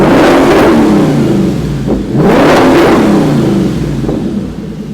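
A car engine running rich with cooked-up plugs revs hard in two loud surging sweeps, climbing and falling, then builds again toward the end, close and with no other sound over it.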